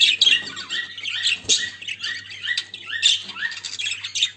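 Small caged birds in an aviary chirp and squawk in quick, overlapping bursts, close and fairly loud, with no talking.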